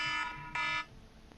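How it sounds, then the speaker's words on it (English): An electronic alarm sounds in two brief harmonic pulses, moderately loud and alone with no one talking. "That's my alarm."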